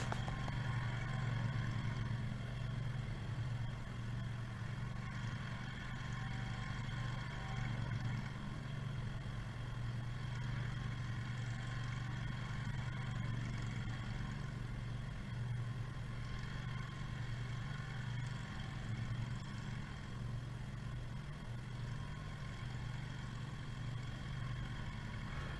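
A lawn mower engine runs steadily with its blades disengaged, a continuous mid-pitched hum and faint clatter holding at an even level throughout, with no talking.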